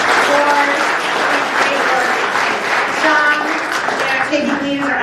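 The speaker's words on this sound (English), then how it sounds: "let's give them a round of applause" A crowd at an Ohio political candidates' forum applauds the Cuyahoga Valley Republicans, steady loud clapping from many hands with voices talking and calling out underneath.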